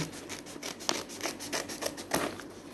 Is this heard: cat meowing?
no